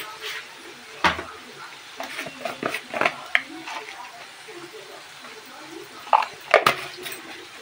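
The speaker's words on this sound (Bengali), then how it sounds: "এবার আমি এটাকে একটু এভাবে নাড়িয়ে চাড়িয়ে নিচ্ছি।" Paneer butter masala with turmeric and salt is stirred in a pan, producing scattered clicks and scrapes of a spoon against the pan, fairly close, over a quiet background with occasional talk.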